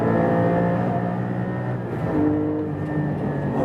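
A 2020 Porsche 718 Cayman GT4 on a race track, its engine a loud, steady drone heard from the cabin, with pitch rising and falling as the car brakes and accelerates through corners.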